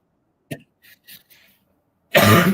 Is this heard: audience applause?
no